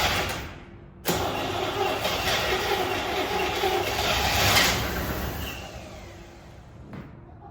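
A 1974 Chevy C20 squarebody pickup left sitting 25 years in the desert cranks briefly, then catches and runs roughly for several seconds with a swelling, uneven engine roar before cutting out near the end.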